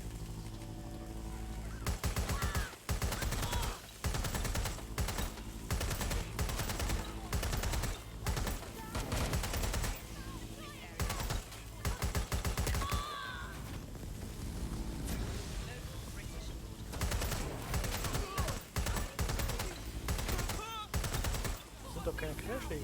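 Repeated bursts of automatic gunfire in the video game Watch Dogs Legion, loud clustered volleys separated by brief lulls, with someone speaking intermittently between the shots.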